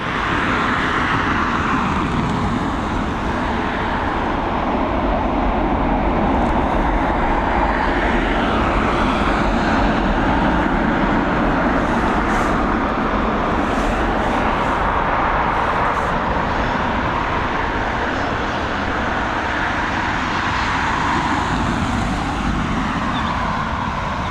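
Fixed-wing airplane at Dublin Airport, its engines producing a loud, sustained broadband roar that holds steady throughout, in the evening.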